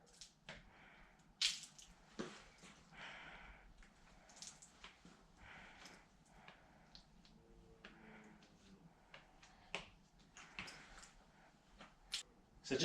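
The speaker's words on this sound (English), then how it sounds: "squeegee all that water out" A squeegee pushes water out from under soaked auto window tint film, giving faint, intermittent wet squishes and drips in a quiet space.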